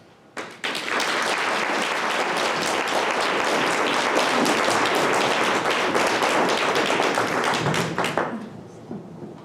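Audience applause welcoming a lecturer at a library evening lecture, dense steady clapping from a room full of people that starts abruptly, holds for about eight seconds and then fades out.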